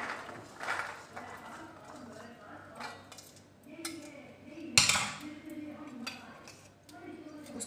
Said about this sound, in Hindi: सबसे पहले लेंगे हम खाली बर्तन, इसमें ये सारे चने डाल दूंगी मैं।